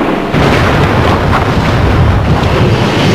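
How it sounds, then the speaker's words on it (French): World War I artillery barrage, German shells pounding British lines at dawn: a dense, continuous rumbling roar of overlapping blasts, loud and close, with no speech over it. "En 4 heures, les Allemands tirent plus d'1 million d'obus sur les lignes britanniques."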